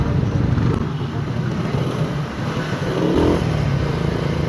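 Steady road traffic noise in Manila with engines rumbling and a motorcycle revving nearby, continuous and fairly loud.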